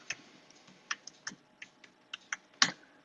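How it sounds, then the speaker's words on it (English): A password typed on a computer keyboard while setting up OpenCore on a classic Mac Pro: about a dozen quiet, close key clicks in an uneven rhythm, ending on one sharper keystroke, with no talk. "so you're going to have to type in your password again"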